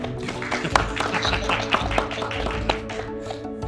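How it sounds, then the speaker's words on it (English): A small audience at the Gold Coast Urban Design Awards 2020 claps, a scattered patter of hands with some sharper individual claps, fairly close and lasting a few seconds. "This is where we clap."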